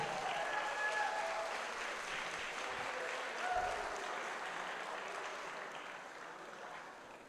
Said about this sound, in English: Ladies and gentlemen, put your hands together one more time for the maid of honor.